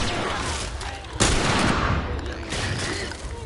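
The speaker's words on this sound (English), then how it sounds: "Dude, turn around and start shooting." Gunfire from The Last of Us Part II, a sharp burst of shots followed by continuous, dense firing that carries through the whole stretch at steady loudness.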